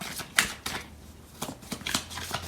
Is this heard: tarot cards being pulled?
yes